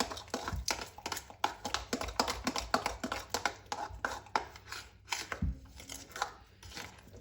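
Batter for Muharram chonge beaten by hand in a bowl, a quick close run of rhythmic tapping and slapping strokes that continues throughout at moderate volume.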